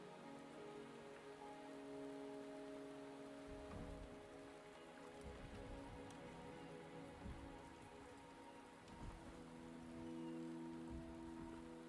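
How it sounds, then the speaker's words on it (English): Steady rain falls in the video game Wuthering Waves, a dense, even patter over a low rumble. A few heavier drops or splashes stand out now and then, and no one speaks. "The rain is subsiding, and the sky will soon clear."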